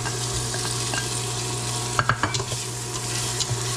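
Pork cubes and Vienna sausage fry in a pan for Pinoy-style carbonara, a steady sizzle broken by a few sharp clicks and scrapes of stirring.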